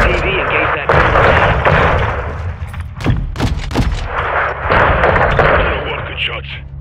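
An air strike levels a building during a Mexico mission in Call of Duty MW2, with heavy booming blasts and crackling gunfire rolling through the middle, while loud radio chatter and shouting run over the battle noise.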